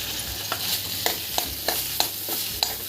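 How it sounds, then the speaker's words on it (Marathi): Fresh grated coconut being sautéed in hot ghee in a pan, with a steady sizzle under regular spatula scrapes and stirring strokes about every half second, close and alone with no talk. "ओल्या नारळाचा चव छानपैकी एक दोनच मिनटं आपल्याला असा परतून घ्यायचा आहे"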